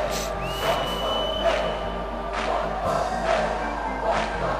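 Crowd in the video game Shenmue 2 chanting and roaring rhythmically during a fight, a dense, loud wall of voices with repeated swells, no commentary over it.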